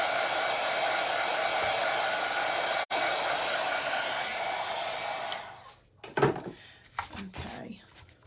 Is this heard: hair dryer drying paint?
yes